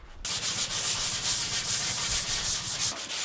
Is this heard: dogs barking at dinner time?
no